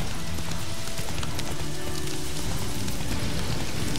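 Steady rain hisses over the ground in The Witcher 3, with a faint clip-clop of hooves blended underneath.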